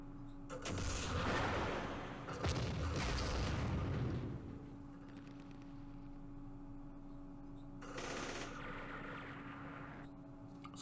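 Opportunity-fire gunfire in the Campaign Series Vietnam war game during the Battle of Hue, loud crackling bursts of shots and booms in two clusters, separated by a quieter stretch with a steady hum underneath.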